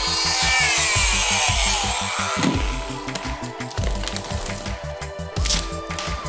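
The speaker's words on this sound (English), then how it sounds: "So let's go ahead and get the oscillating saw out and go ahead and cut that piece out of there." An oscillating saw cuts out a piece of drywall, a loud close buzzing with a rapid rhythmic pulse and gritty rasp, briefly easing and then resuming.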